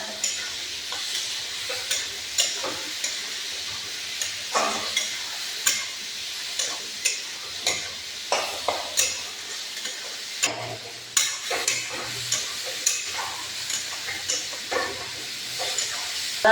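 Garlic paste is stir-fried in a pan for a spicy bottle gourd and prawn dish, with a constant sizzling hiss broken by regular scraping strokes of a spatula, close and steady, with no talking.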